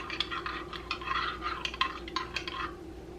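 A spoon stirs sugar and a dash of milk into a cup of coffee, producing a quick series of light metallic clinks and scrapes against the cup, near and fairly quiet.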